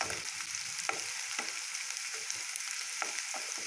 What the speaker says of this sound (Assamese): আপোনালোকে পিঁয়াজখিনি যিমান ভালদৰে ভাজি ল'ব